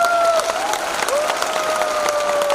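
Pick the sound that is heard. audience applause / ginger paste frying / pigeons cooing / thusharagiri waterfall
audience applause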